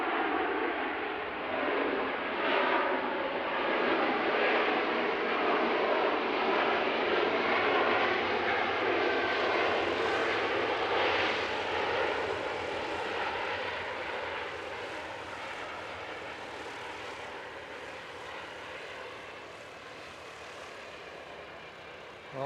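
Passenger aircraft arriving at Christchurch International Airport, a loud, steady jet engine roar sustained for about ten seconds, then slowly easing and fading as the plane passes, with no voices.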